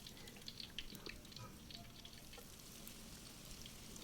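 Tempeh frying in hot oil, giving a steady, even sizzle with faint crackles that runs without a break for the whole stretch.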